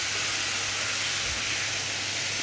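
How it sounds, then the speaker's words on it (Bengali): Water hits chicken and spices in a hot pan for a Bengali chicken dal, producing a steady, loud, close sizzling hiss that fills the whole moment without any talk. "একটু সামান্য জল দেবে, যাতে চিকেনটা কষা হয় আর মশলাগুলো পুড়ে না যায়"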